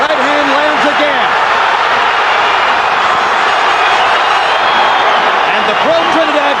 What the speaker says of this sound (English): And the pro-Trinidad crowd comes to life.